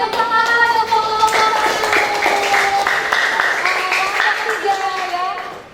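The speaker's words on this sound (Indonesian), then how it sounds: "Oke, tepuk tangan untuk kelompok" A classroom gives a group of students a round of applause, with scattered hand clapping running under a voice, while a whistling tone rings throughout.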